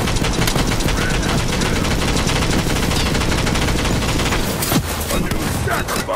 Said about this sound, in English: Yeah, I didn't realize this gun was crank operated.